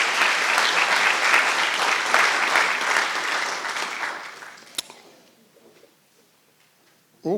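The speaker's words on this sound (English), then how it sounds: "So please give him another warm round" A convocation audience at a Founders' Day ceremony gives a warm round of applause, loud sustained clapping that fades out after about five seconds into near quiet, with a brief voice at the very end.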